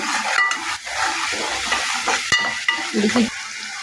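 Ginger paste sizzling in a hot pan while being stirred for a bottle gourd mutton curry, with close, busy scraping strokes over constant frying crackle and one sharp tap against the pan.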